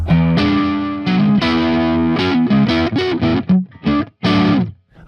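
Electric guitar played through an EVH 5150III amp on its EL34 blue channel with the gain raised, giving a heavily distorted, saturated tone of sustained chords and choppy riffs with brief gaps near the end, loud and alone.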